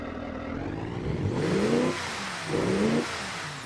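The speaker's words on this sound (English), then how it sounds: "It certainly idles like a diesel by the sounds of it." A diesel-like engine in a BeamNG video game idles with a clattery rumble, then revs twice in quick swelling bursts that fall back to idle, heard alone and moderately loud.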